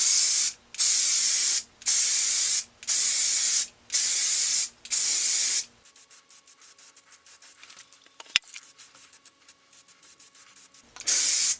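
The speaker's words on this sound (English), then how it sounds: "I paint using a high-performance white enamel designed for masonry, so it does stick extremely well." White masonry enamel is sprayed onto sandcarved stone in six short, loud hissing bursts with regular pauses, then quieter rubbing and handling noises before one last burst.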